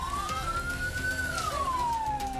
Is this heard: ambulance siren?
yes